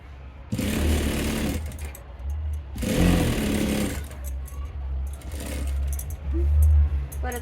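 A sewing machine runs in several bursts of a second or more, stitching down the handle of a cloth bag, close and steady with a low motor hum and brief pauses between runs.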